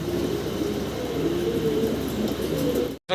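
Fancy pigeons coo together at a loft, their layered, murmuring calls forming a steady, dense din that cuts off abruptly near the end.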